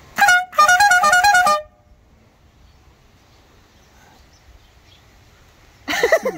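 A loud, musical air horn fitted to a lawnmower blasts twice in quick succession, followed by quiet, then another burst starts at the end.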